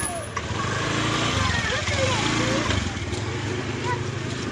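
A motorcycle engine drones steadily nearby on a street where people are talking, its hum rising slightly mid-clip as it passes.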